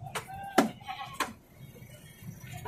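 Goats bleat as they are loaded into a cargo vehicle, with several sharp, fairly close calls coming in quick succession over low background rumble.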